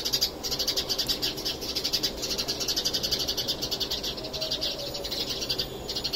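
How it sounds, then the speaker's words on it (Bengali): A flock of sparrows chirps busily on a home balcony, a dense, continuous stream of bright, rapid twitters, loud and close, with no talk. "আমার বারান্দা পুরোই কিচির মিচির আওয়াজে ভরে গেছে, পাখির আওয়াজে।"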